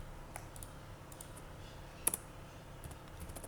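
Keys on a computer keyboard are typed in a few faint, scattered clicks with one sharper tap near the middle, quiet and close with no talking.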